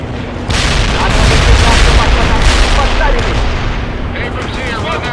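Abrams tanks open fire on hostile forces in the World in Conflict video game, with heavy booming cannon and gunfire merging into a loud, continuous battle din for several seconds before easing slightly.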